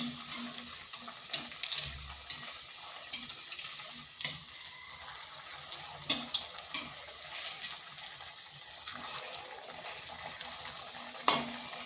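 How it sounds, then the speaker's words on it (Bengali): Poha snacks frying in oil in a pan, a steady bright crackling sizzle with scattered clinks of a spoon turning the pieces, close and alone with no voices. "তো এইভাবে আমি সবগুলো ভেজে নিচ্ছি।"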